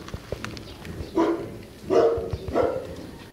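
Dog named Kobe barks three times up close, deep single woofs spaced about a second apart, with light shuffling and clicks around them.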